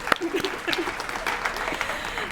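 Brief applause rises from a seated audience at a nutrition talk, scattered claps mixing with voices and crowd murmur, moderately loud and fairly close.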